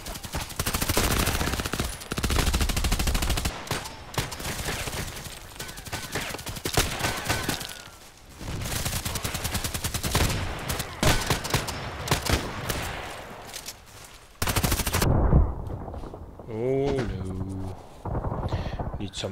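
Rapid bursts of automatic gunfire and scattered single shots from the online shooter game Contract Wars, loud and nearly continuous, briefly cutting out near the end while game tones play.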